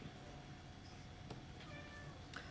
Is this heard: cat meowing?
yes